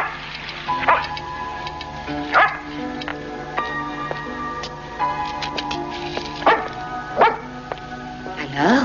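Dog barking in a 1988 thriller scene, a series of sharp yips and whimpering barks spaced irregularly across several seconds, close and fairly loud, mixed with other background sound.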